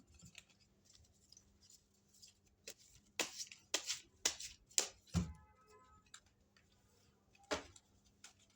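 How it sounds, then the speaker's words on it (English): A series of crisp, close tarot card riffles and flicks, clustered in quick bursts in the middle of a quiet room. "Let's shuffle and draw the cards for Capricorn."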